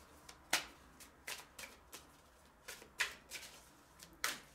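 Tarot cards being shuffled for a reading, a series of crisp riffling bursts and soft slaps at an uneven rhythm, close and fairly quiet, with no talking.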